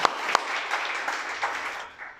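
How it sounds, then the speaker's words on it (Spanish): Applause from a congregation at a Torah teaching, a moderate burst of many hands clapping with a couple of sharp individual claps at the start, fading out after about two seconds. "un aplauso a ustedes"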